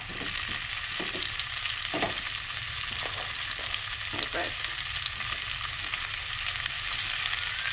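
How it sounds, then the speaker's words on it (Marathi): Cauliflower fries in oil for a vegetarian thali, producing a constant loud hiss with intermittent soft knocks and scrapes of stirring, close to the pan and without talk. "सगळो जो फ्लावर आसा तो एड करपाक जाय. सिंपल तरेनूच हांव फ्राय करता."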